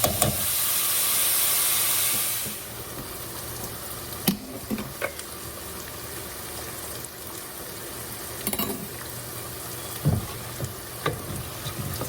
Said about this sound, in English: So I'm adding the lentils now.